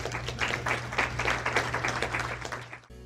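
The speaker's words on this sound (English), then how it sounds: "give a big round of applause for these incredible treasurers" Brisk applause from a small audience at a treasury professionals gathering, clapping for the treasurers over a low steady hum for about three seconds before cutting off abruptly.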